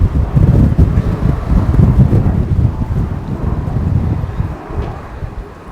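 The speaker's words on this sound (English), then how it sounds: "it's going to be a windy one" Strong outdoor wind gusting and buffeting the microphone during a home workout, a loud, low, steady rumble that swells and eases over several seconds with no one talking.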